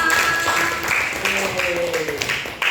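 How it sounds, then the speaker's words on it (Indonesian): A classroom of students claps together in a steady, fairly loud burst of applause that fills the space, with voices mixed in underneath the clapping. "Oke, tepuk tangan untuk kita semua."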